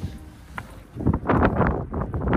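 Wind gusting across desert dunes in the Sahara, rough buffeting that swells and roars against the microphone, growing louder after a calmer start.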